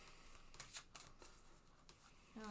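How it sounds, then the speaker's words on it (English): Tarot cards being shuffled by hand at close range, a run of soft papery riffles and slaps in uneven bursts over quiet room tone, ending with a brief bright rustle. "Alright, Clown, I'm shuffling it up"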